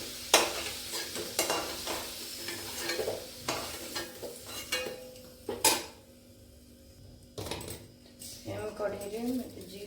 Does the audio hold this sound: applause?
no